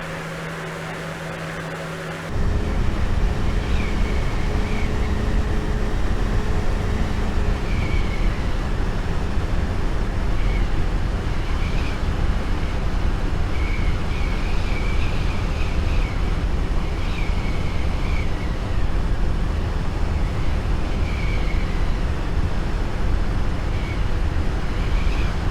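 A simulated airplane engine drones steadily in a flight simulator game during a takeoff-and-landing tutorial, a constant broad rumble with faint higher whines that starts abruptly after a short quieter opening and holds loud throughout.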